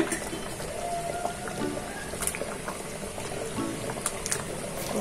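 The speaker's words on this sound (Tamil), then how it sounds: "இப்போ இந்த மாங்காவை போட்டுக்கலாம் குழம்புல" Fish gravy (kuzhambu) with nethili fish and raw mango bubbling in a pot, a steady soft boiling and popping sound, close and moderately quiet.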